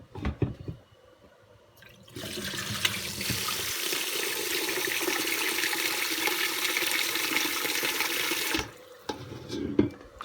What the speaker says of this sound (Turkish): Şimdi bu suyu da dökelim.